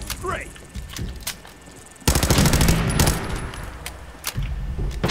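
Gunfire in Fallout 4 cracks out in scattered single shots and then a dense, loud burst of rapid fire, with a voice talking over it.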